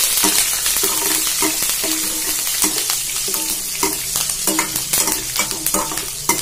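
Ginger and curry leaves frying in a pan, a loud close sizzle with repeated stirring scrapes in an uneven rhythm, and no talking.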